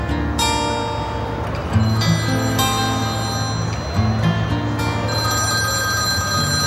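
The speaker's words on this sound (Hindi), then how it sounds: "मुझे फोन उठाना है।" A telephone rings in a domestic drama scene, repeated electronic trilling bursts in a steady pattern over a low background hum, fairly loud and close.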